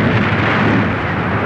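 Massed WWII artillery bombardment, German guns pounding a small Soviet-held bridgehead, heard as a continuous, loud, dense rumbling roar with no separate blasts standing out.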